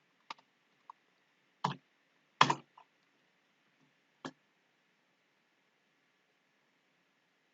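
A handful of sparse, quiet keystrokes on a computer keyboard as ipconfig is typed into a command prompt, irregular clicks with long pauses between them in an otherwise silent room.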